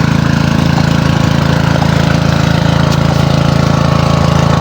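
A grass cutter engine runs steadily at a loud, constant idle-like drone, with a dense, even throb and no voices.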